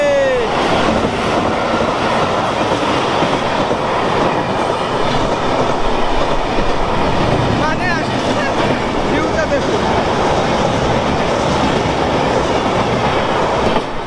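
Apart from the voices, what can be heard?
train passing on the rails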